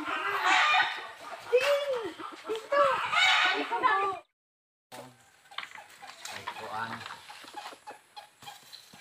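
Native chickens cluck and squawk close by, with busy overlapping calls and a brief silent gap partway through before the clucking resumes more softly.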